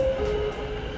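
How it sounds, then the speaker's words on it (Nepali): A train heard at a rail crossing or track in Nepal, a steady broad rumble running throughout with a thin tonal squeal near the start, moderately close and continuous without voices. "24 को ट्रेन छ"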